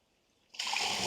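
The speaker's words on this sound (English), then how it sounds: "There's going to be a big sudden influx of water when it gets down there." Water surges into a hydroelectric penstock pipe, a sudden loud rushing hiss that bursts in after near silence and holds steady as a broad, churning flow.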